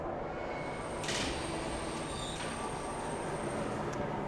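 Tram ride in the video game Riven: a steady rolling rumble of the moving car fills the whole stretch, with brief brighter screeching bursts near the start and a faint tone riding on top.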